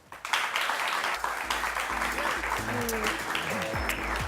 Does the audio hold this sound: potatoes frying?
no